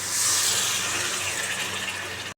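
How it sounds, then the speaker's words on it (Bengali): Water is poured into a pan of cracked spices while fish curry cooks, making a close, loud gushing rush that lasts about two seconds before it stops abruptly. "জল দিয়ে দেবো ভালো করে ফাটিয়ে নিলাম জল দিয়ে দিই"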